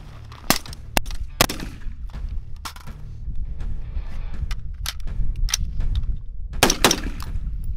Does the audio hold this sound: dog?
no